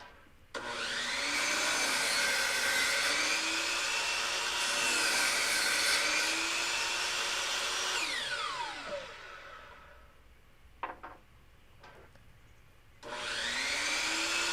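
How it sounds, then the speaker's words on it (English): A power saw whines loudly as it cuts an angle in a wooden deck handrail, holding a steady pitch for several seconds, then winding down with a few faint knocks before starting up again. "And then I'll go to the saw, I'll cut that angle"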